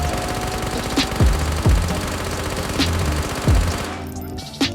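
Automatic fire from an MP7 submachine gun in Ghosts of Tabor as a full magazine is emptied: a dense, loud, continuous rattle with a few heavier bursts standing out, stopping abruptly near the end, followed by one last sharp crack.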